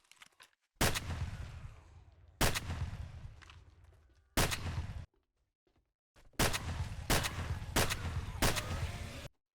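Heavy shotgun fire in the 7 Days to Die video game running an Escape From Tarkov mod: loud, booming reports with rumbling tails, three spaced shots, a brief silence, then a faster run of several more.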